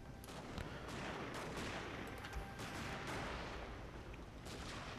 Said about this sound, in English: my troops seem to be firing largely on the bridge structure as opposed to the troops themselves